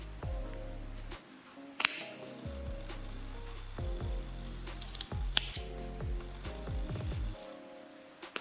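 Scissors snipping crochet yarn tassel ends, several crisp close cuts at uneven intervals over faint rustling of the yarn, quiet, with no voices.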